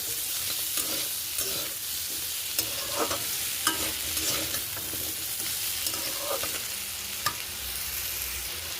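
Potato and pumpkin pieces fry with turmeric in a pan, giving a steady close sizzle broken by repeated scraping and stirring clatters from a spatula, with no voices.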